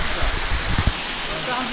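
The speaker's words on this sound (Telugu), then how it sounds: "ఇంత ఫోర్స్గా పడుతున్నాయి చూడండి గాయస్. వాటర్ అయితే చాలా స్పీడ్గా పడుతున్నాయి." Katki waterfall near Araku pours down with great force, a dense, steady roar of crashing water close by that fills the whole moment without break.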